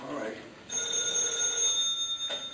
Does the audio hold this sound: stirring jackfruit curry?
no